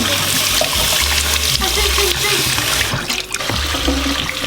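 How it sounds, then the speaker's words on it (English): Carrots are washed under running water at a sink, a loud continuous splash and trickle with shifting gurgles throughout. "So basically just washing the carrot and placing them on the tray."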